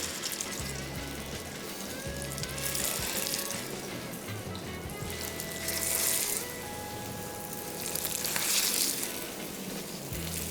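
Kebabs frying in oil in a pan, a steady sizzling hiss that continues through the whole stretch, with a few swells in intensity and occasional clinks in the background.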